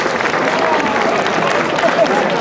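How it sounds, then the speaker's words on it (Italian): A large crowd applauds at an outdoor festival in Pettineo, clapping steadily for the knights of Mistretta, a dense, even wash of hand claps with some murmured voices mixed in throughout. "Ringraziamo i cavalieri di Mistretta con un grosso applauso."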